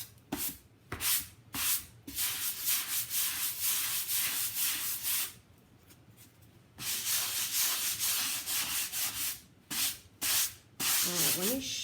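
A metal scraper rasps repeatedly across milk paint on an antique wooden child's chair, coming in close, rhythmic scraping strokes broken by short pauses, with no one speaking.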